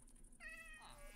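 A cat in a Minecraft modpack gives one short rising meow, close and fairly clear over a quiet game background hum, with no one speaking.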